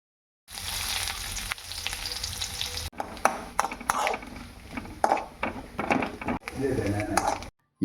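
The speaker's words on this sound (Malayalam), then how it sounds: "തേങ്ങാക്കൊത്ത് വറുത്തെടുക്കുക ബ്രൗൺ കളർ വരുന്നത് വറുക്കുക" Chopped coconut pieces roast in a pan with a steady crackling sizzle, broken by repeated scraping stirs and short clattering bursts, fairly close and moderately loud.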